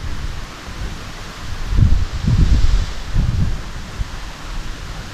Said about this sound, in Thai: ลมแรงลมแรงวันนี้สุดยอดเลย